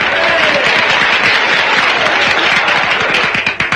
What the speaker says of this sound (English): Just listen to that applause.